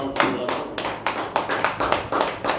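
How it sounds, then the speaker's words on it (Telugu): Hands clap in a quick, steady rhythm, about a dozen sharp claps at close range, as a congregation keeps time during church worship. "చప్పట్లు చప్పట్లు కొడుతూ"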